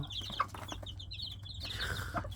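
A family of chickens pecking at fruit scraps and banana gives off soft, scattered clucks and high peeps, faint and close over a low constant hum.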